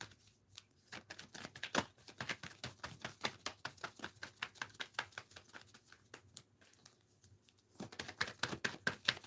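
Tarot cards are shuffled in quick, crisp riffling bursts that repeat steadily, with a short pause near the end before another flurry, close and fairly quiet.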